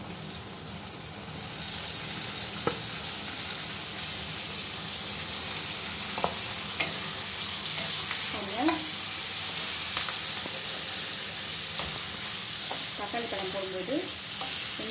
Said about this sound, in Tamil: தக்காளியை வதக்கி